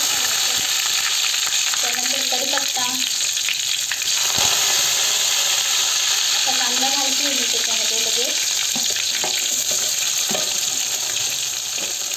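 Ginger and garlic hit hot oil for dal fry, giving a steady bright sizzle throughout with occasional stirring clinks, while a voice talks faintly in the background at times.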